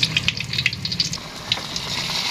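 Banana blossom fritters sizzle and crackle steadily in hot oil, with a close, continuous bubbling hiss and small popping spatters throughout.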